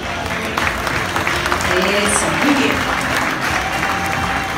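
Applause at a school breakfast-room inauguration, a dense, steady clapping from a crowd throughout, with someone speaking briefly over it.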